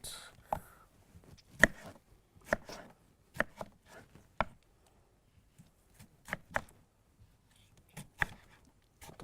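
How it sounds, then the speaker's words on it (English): A knife dices a tomato on a cutting board in a steady series of sharp, close chopping taps with short pauses between. "So now we're just going to dice up the tomato."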